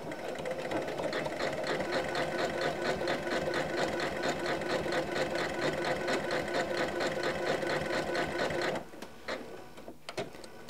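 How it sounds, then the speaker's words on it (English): A home sewing machine runs a regular zigzag stitch on a tea towel, its fast, steady needle rattle continuing loud and unbroken for about nine seconds before stopping, followed by a few faint clicks. "I'm using just a regular zigzag stitch"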